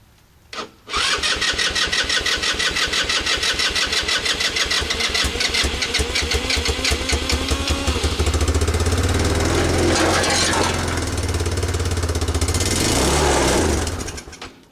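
A derelict, battered vehicle engine that may have been starving for fuel cranks and catches right away. It settles into a loud, close, rapidly pulsing run that keeps going with a slightly uneven beat before cutting off.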